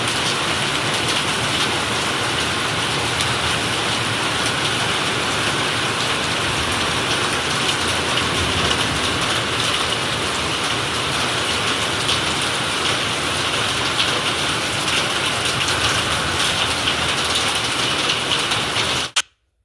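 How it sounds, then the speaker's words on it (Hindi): Heavy rain pours down continuously in a dense, loud hiss for nearly twenty seconds, then cuts off abruptly at the end. "देखो पानी अभी स्टार्ट हुई है बारिश और कितना पानी हो गया ना"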